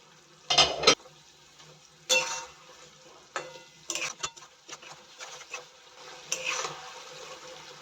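Fried chicken pieces dropped into honey sauce in a pan, making a few separated splashy clatters and stirring scrapes with a faint sizzle in between, close by and without talk.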